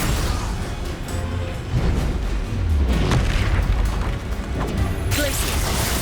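Spell blasts from the Confringo fire spell in Hogwarts Legacy, heavy booming explosive bursts in close succession with crashing impacts, loud and continuous over about six seconds.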